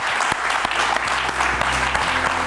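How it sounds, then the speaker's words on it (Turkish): A studio audience on a live Turkish TV broadcast claps loudly and steadily to welcome a guest, a close, continuous wash of many hands for the whole two and a half seconds. "Önce alkışlarla onu stüdyomuza alalım."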